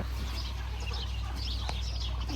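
Soft, scattered clucking from chickens close by over a low steady hum, with a few brief higher calls.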